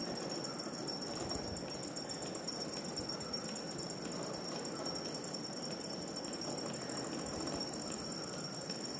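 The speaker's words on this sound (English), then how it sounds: "here now I connect the small size motor and I'm going to start the motor" A small sensorless three-phase BLDC motor run by an Arduino controller whirs steadily and continuously nearby, with a fine rattling, ratchet-like buzz throughout and no speech.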